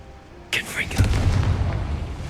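Confringo fire spell blast in the Hogwarts Legacy video game, a sudden booming burst followed by a rumbling roar, with a voice over it.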